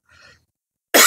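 A single short, sharp cough bursts out loudly and close after a brief faint breathy sound and a moment of silence.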